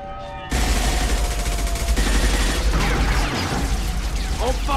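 Dense sustained gunfire in the Mass Effect 2 video game during a combat scene, loud rapid bursts with mechanical clatter and pops under faint voices.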